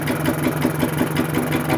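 A Vire 12 hp engine runs steadily after starting, a continuous mid-pitched throbbing drone with an even rapid rhythm, close and fairly loud, with no voices.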